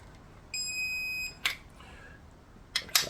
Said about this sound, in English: So I get that loud beep